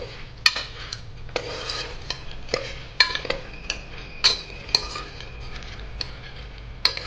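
A spoon scrapes and clinks against a pan as dal dumplings (sandge) are stirred while they roast for amti curry: irregular metallic taps and scrapes over a low steady background hiss, near and moderately loud, with no talking.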